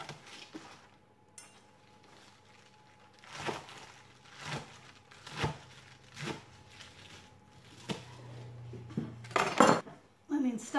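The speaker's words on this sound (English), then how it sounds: "roll it up nice and tight, and then I just slice it into manageable sized chunks" Knife cutting rolled-up harvested greens into chunks on a board, a series of distinct chopping thuds at irregular intervals with light clatter around them, close and fairly quiet.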